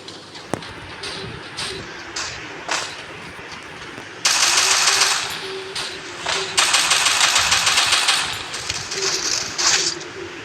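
Rapid bursts of automatic gunfire in a Call of Duty-style shooter game, loud and repeated, with sustained firing runs between short single shots and faint talk underneath.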